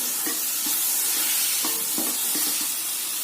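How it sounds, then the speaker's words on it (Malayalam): Chopped tomatoes being stirred into sautéed chicken curry masala in a pan, a steady sizzle and hiss underneath with soft scraping strokes of the spoon recurring every half second or so, no talking. "നന്നായിട്ട് ഇളക്കാം."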